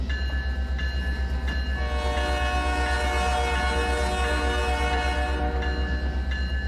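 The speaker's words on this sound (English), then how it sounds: "the horn sounds really good while you're in the cab" The horn of an SD70ACU locomotive, heard from inside the cab in the Trainz train game: a loud, steady multi-chime blast that holds for several seconds with short breaks, over a continuous rumbling engine drone.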